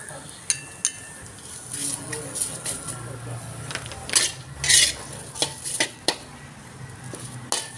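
Lemongrass stalks, citrus leaves and chillies stir-fried in a hot wok for a snail dish, with repeated sharp spatula clinks and scrapes against the metal over a low frying hiss, while a voice talks throughout.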